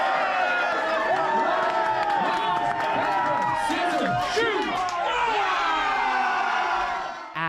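Cruise passengers in a large crowd cheer, whoop and shout continuously during a giant rock-paper-scissors game on board, loud and dense, with voices calling out over the din.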